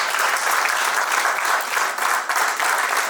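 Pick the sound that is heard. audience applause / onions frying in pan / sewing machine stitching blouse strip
audience applause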